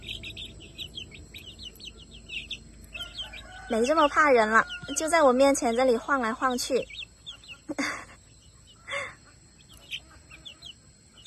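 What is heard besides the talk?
young chickens clucking and chirping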